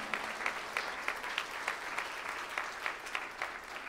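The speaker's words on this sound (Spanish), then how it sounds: "Dale un fuerte aplauso a nuestro Señor y Salvador Jesucristo" Congregation applause during a Spanish-language church service, steady broadband clapping with a rhythmic pulse of louder claps, sustained and fairly close throughout.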